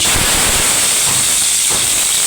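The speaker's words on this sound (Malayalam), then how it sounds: "എണ്ണ ഒഴിച്ചിട്ടുണ്ട് ഇനി നമുക്ക് ഈ ചെറിയ ഉള്ളിയും ഇതെല്ലാം ഇതിനകത്തൊന്ന് വാട്ടിയെടുക്കാം" Shallots, garlic and ginger sizzling in hot oil in a pan for fish curry, a loud, constant close hiss filling the whole clip.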